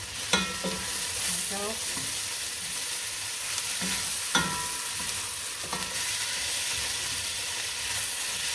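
Onions and garlic fry in a pan with a close, steady sizzle. Scraping stir strokes and a few sharp clinks of a utensil sound over it, and a voice speaks briefly.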